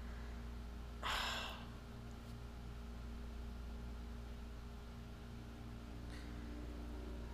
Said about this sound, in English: Then I realized that was breathing.